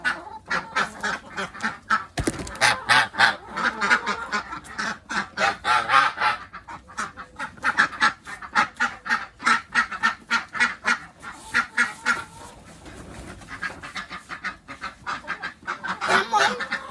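A flock of geese honk repeatedly and loudly up close in rapid, overlapping bursts, with ducks nearby and brief pauses between the runs of calls.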